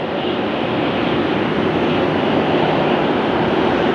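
A Southwest airliner arriving at Phoenix airport on a hot day, its engines producing a loud, steady broadband roar that holds constant throughout.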